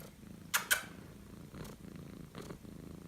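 A small pet cat, woken on a pile of pillows and blankets at home, purrs softly and close, a low continuous rumble broken by a couple of quick rustling movements and faint breaths.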